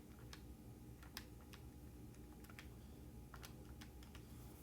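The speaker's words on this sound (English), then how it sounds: "if I write this all or type this all into my calculator" Calculator buttons are pressed in quick irregular taps, faint clicking keys over a low steady background hum.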